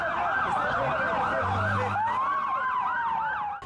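Ambulance siren wailing loud and near, a rising and falling electronic tone that shifts into a long sweep, with traffic rumble underneath.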